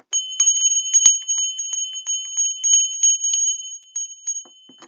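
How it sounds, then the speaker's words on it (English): Small bells ring in a quick, irregular cluster of bright, sustained chimes close to the microphone, fading to sparse tinkles at the end. "Let's do the bells."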